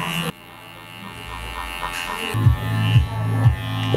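Electric hair clippers buzz close by during a short textured haircut, cutting hair down to zero with a steady motor hum that rises and falls in short passes as the blade moves over the head.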